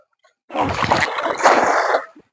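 A fishing cast net hits river water in Idukki with a loud, close splash that swells twice and then quickly dies away, with no talking.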